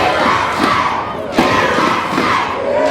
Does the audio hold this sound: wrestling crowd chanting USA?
yes